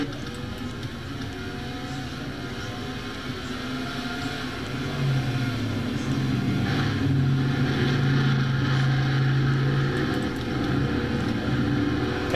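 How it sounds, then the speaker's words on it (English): Ford race car accelerating around a track in a Castrol GTX Cup Series race, a steady engine drone that swells louder partway through and holds a rising, sustained roar to the end. "let's watch that Ford accelerate"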